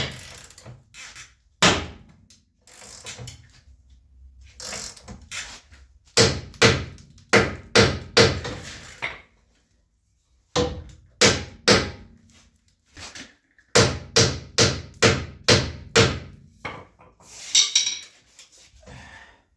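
A ball joint is hammered into a Dana 60 axle on a rusty salt-belt rig: loud metallic blows land in quick rhythmic runs of several strikes, separated by short pauses.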